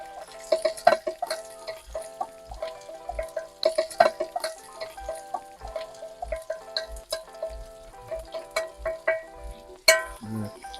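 Onion, chili and curry leaves sizzle with spices in a cast-iron potjie pot. Irregular clacks and scrapes of stirring sit over a faint frying hiss, close up, with a sharper knock near the end.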